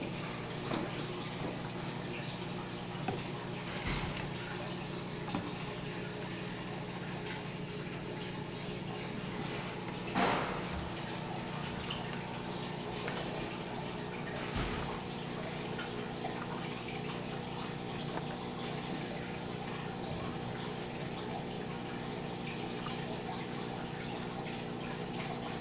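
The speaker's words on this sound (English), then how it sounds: "I put the warm water on top of the flask with cold water" Warm water pours onto a flask of cold water in a lab, a continuous even trickle and gush that runs throughout, with a few faint knocks and no talking.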